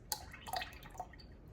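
Lemon juice pouring into a pot while making elderberry syrup, heard as a few quiet, close splashy drips spread over a second and a half.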